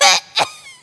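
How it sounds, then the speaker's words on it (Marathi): Person coughing from incense smoke, two or three harsh, raspy bursts, close and loud, with short gaps between them. "धुराने येतो खोकला"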